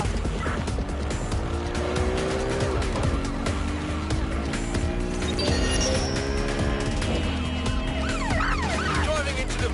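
A car in a Watch Dogs Legion police chase, engine roaring steadily as it drives into a suspect vehicle, with wailing sirens rising and falling and tires squealing throughout at constant loudness.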